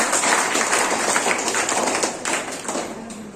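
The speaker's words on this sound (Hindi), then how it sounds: "सबके लिए एक बार जोरदार ताली" A school audience at a Bihar Earth Day event at a girls' high school in Tulsia breaks into dense, steady applause, many hands clapping together for a few seconds before thinning out.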